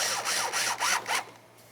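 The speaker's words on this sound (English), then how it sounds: "line up our hole, and put in our mounting screw" A headlight mounting screw being driven into a 1999-2003 Toyota Solara headlight assembly, heard as a few close, rhythmic scraping and rubbing strokes, about four in quick succession, that then fade.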